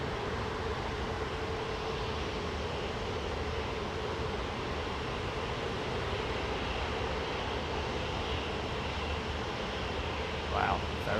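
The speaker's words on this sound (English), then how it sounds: "takeoff roll there, man" An airliner on its takeoff roll at London Heathrow Airport, heard as a continuous broad engine roar at moderate distance, steady and unbroken throughout.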